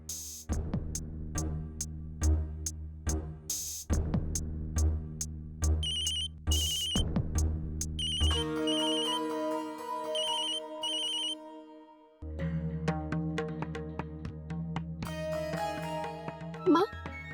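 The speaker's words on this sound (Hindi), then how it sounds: "नैतिक ने मेरा फोन काट दिया।" A phone ringtone plays a repeating electronic melody, loud and close, with the tune changing partway through and continuing to the end.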